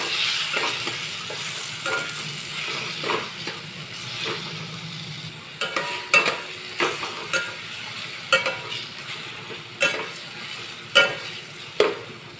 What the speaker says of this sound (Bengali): টমেটোগুলো দিয়ে ভালো করে মশলাটা ভেজে নেব।